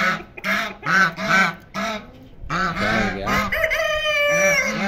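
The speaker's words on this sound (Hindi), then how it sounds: "ये देखें डक्स इन पे हमला हमला कर रहे हैं" Geese and ducks kept as backyard fowl honk and quack loudly and close by in repeated overlapping bursts while the ducks attack other birds.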